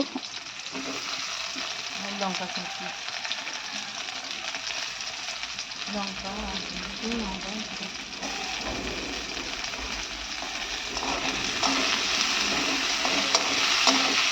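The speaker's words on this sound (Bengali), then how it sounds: "করলাটা একটু ভেজে নেব" Bitter gourd fries in hot oil with five-spice seeds, a steady, close crackling sizzle that runs throughout and swells louder toward the end, with a voice speaking briefly over it.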